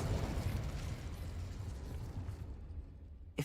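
In the Hogwarts Legacy video game, a Confringo spell explosion erupts as a loud, broad, rumbling blast that roars and slowly decays over about three seconds, ending in a small pop.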